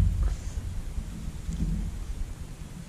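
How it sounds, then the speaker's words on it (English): Outdoors, rain begins to fall amid a low rumbling of thunder, a steady dull wash of noise throughout without voices. "it's starting to rain."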